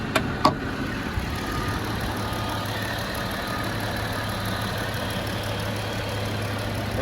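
A damaged Dodge Challenger Hellcat widebody idles steadily at a salvage yard, a low, even engine hum running throughout, with a couple of sharp clicks near the start.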